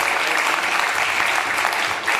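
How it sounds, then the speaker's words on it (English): Sustained audience applause at a NATO defence policy conference panel, steady dense clapping throughout at even loudness with no pauses. "I would like to join you in a round of applause for our guys."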